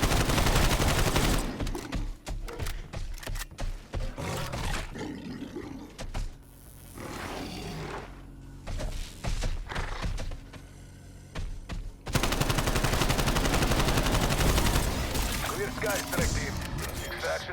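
Sustained, loud gunfire aimed at the orbs in a boss creature's mouth on the Forsaken map in Call of Duty Cold War Zombies, mixed with monstrous roaring, pausing briefly mid-fight before surging again at full intensity.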